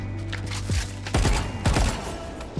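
Rapid bursts of spraying video game gunfire, sharp repeated shots in quick succession with a short pause between volleys, loud and close.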